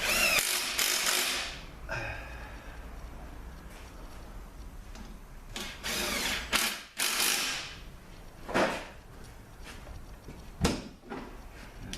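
A hand ratchet runs bolts up on the front pump of a 722.9 automatic transmission, fast bursts of clicking pawl separated by pauses, loud and close, with no talk.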